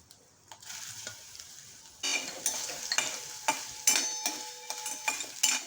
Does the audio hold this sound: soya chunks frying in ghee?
yes